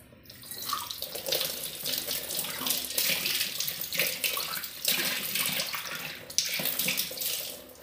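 Tap water runs and splashes steadily as a small silver pot, cleaned with paste, is rinsed under it, with shifting gurgles and sharper spatter as the vessel moves through the stream.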